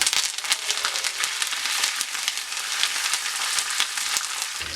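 Ginger, dried red chillies and curry leaves fry in oil with mustard seeds, crackling and sizzling continuously with dense, sharp popping spatters, loud and close with no talking.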